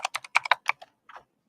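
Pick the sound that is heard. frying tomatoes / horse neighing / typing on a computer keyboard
typing on a computer keyboard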